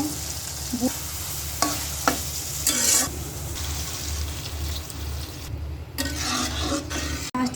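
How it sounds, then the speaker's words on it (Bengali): Vegetables are stirred into a curry frying in a pan, with a continuous close sizzle and repeated scraping strokes of the spoon against the pan at an uneven rhythm. "এই যে আনাজটি দিয়ে নিই ভালো পরিমাণে মিশো"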